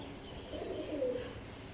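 Pigeons coo softly near a window, one low, faint throaty call swelling in the middle against a steady background hum.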